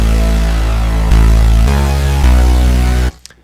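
Two synth basses layered together, one of them the Virus luminosity patch, with a heavy sub low end. They play a dense, sustained tone that steps through a few note changes before cutting off abruptly near the end.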